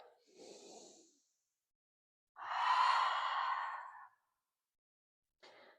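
Slow, deep breaths during a beginner vinyasa yoga flow: a soft inhale, a pause, then a long, full exhale through the nose and mouth, with a short breath at the end, close and quiet with no talking.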